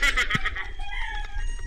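A rooster crows once nearby, a loud strained call that trails off into a lower, wavering tail.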